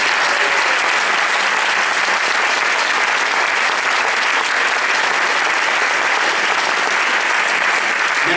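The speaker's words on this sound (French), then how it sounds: "On peut les applaudir très très fort." A large audience applauds choirs after an evening sing-along concert, a dense, steady wash of clapping that fills the whole stretch at close range with no talk on top.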